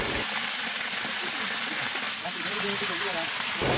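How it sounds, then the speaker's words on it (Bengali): A whole chicken fries in hot oil, giving a dense, steady sizzle and crackle like heavy rain, with a brief soft clatter as it is turned over. "এখন আমি উল্টে পাল্টে ভেজে নেব।"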